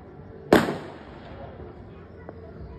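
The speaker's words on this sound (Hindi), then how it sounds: "पटाखे चल रहे हैं, धूमधड़ाम हो रही है।" A single loud firecracker cracks close by during a home Diwali celebration, then its echo decays. A much fainter pop follows about two seconds later.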